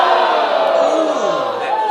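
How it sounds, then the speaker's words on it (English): A pro wrestling crowd at a Malaysian show roars steadily to rally a flagging wrestler, a dense, continuous wall of cheering and yelling that holds at a constant loud level throughout. "The crowd tries to fire him up."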